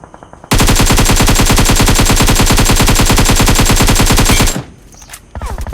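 An AKM assault rifle fires in PUBG Mobile, a loud, continuous fully automatic burst of rapid shots lasting about four seconds, followed by quieter game ambience and a few more sounds.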